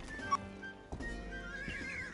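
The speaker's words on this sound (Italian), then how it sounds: "Un cavallo!" A horse whinnies in the Western video game Rustler, a short clear neigh followed by a second fainter call, with light hoof clip-clop underneath and no talk.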